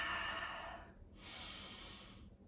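Slow, steady breaths from a person holding a static pose during a morning energizing workout, a long airy exhale, a pause, then another drawn-out breath, close and alone with no talk.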